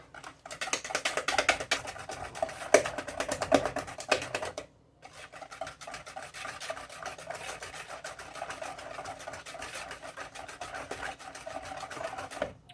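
A butter and brown sugar mixture for a 1930s-style vinegar pie is whisked by hand, a fast steady rattling patter against the bowl with one brief pause before it resumes.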